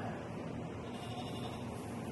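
Goats bleat in a steady, noisy outdoor setting, their calls blending into constant background rustle rather than standing out as sharp, separate cries.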